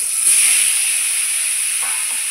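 Mango pieces, rubbed with salt, lightly frying in mustard oil with black cumin, giving a steady, close hiss and sizzle throughout with no talking.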